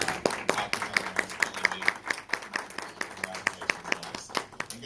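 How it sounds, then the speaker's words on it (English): A small audience at a spelling bee claps for the contestants, producing distinct, fairly rhythmic individual claps that ring out clearly in a modest room for about five seconds. "let's go ahead and give all of our contestants a round of applause for making this far"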